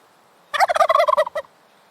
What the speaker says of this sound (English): gobble is a word that is very closely associated with turkeys